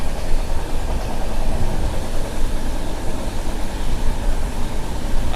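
Falaknuma SF Express (12704) rolling through hilly country near a lake, heard from a general coach: a constant dense rumble and rattle of the moving train, loud and unbroken throughout.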